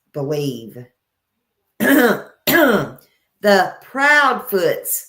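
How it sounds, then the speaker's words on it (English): Several loud, harsh throat clearings close up, coming in separate bursts with short pauses between them. "let me clear my throat again."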